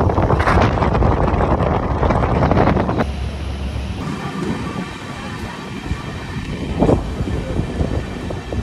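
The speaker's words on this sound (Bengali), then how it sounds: "নসিপুর ব্রিজ পার হওয়ার মধ্যেই দেখো আমাদের ট্রেন 74 কিলোমিটার স্পিড ধরে নিচ্ছে।" Sairang Kolkata Express on its inaugural special run, moving at about 74 km/h near Nasipur bridge and Murshidabad Junction, heard from aboard as a steady loud rumble with wind buffeting; the roar eases after a few seconds into a lighter rolling hum.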